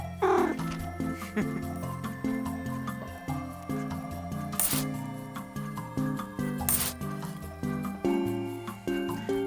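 Cat meows in the Minami Lane video game, several short mewing calls over bouncy background music with two brief bright chimes.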